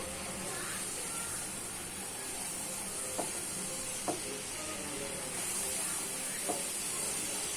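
Ghee simmering on low heat in a pan, giving a steady, close bed of hissing and sizzling broken by a few faint pops and crackles.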